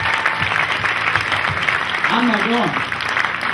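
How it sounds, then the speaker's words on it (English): Audience applause for performers at a house concert, steady clapping throughout with someone talking over it and a short vocal sound near the end. "can we have a round of applause for all our performers tonight?"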